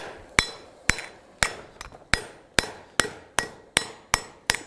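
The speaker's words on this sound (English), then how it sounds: "not necessarily to hammer it against the block when you hear those dinks" A forging hammer strikes a hot steel ladle sunk into a swage block, ringing out in a steady, evenly spaced series of about nine bright, close metallic blows, each with a short fading ring.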